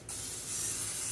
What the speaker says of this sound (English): Now I'm going to spray this pan good